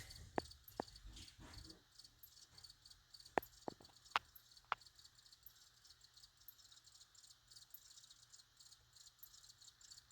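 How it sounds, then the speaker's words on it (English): Faint chirping of crickets in a quiet setting, a few sharp isolated clicks early on, then soft continuous insect trilling. "how crickets rub their wings together to make that sound"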